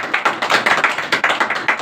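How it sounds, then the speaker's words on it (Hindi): Audience in a Republic Day gathering at a coaching center in Purola, India, clapping steadily with dense overlapping hand claps at a brisk, even rhythm, close and fairly loud with no voices over it. "शायरियों को आनंद उठाए और तालियों से हमारा हौसला बढ़ाइए"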